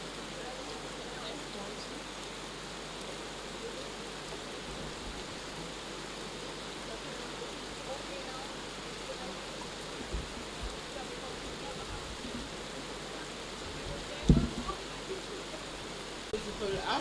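Steady rain falls outdoors at a monument unveiling in a park, a constant broadband hiss of drops throughout with a few louder nearby knocks and spatters late on, voices faintly present beneath.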